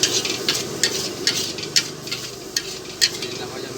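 Red fried noodles are stir-fried at a street food stall, with a constant loud sizzle and a steady rhythm of utensils scraping and clacking against the pan.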